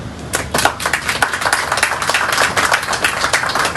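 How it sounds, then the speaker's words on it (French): An audience at a Haitian government event for the national police applauds the security forces, with dense, steady clapping from many hands that is loud and sustained throughout, and no speech. "demander à vous tous ici présents d'applaudir celles et ceux qui assurent notre sécurité au quotidien"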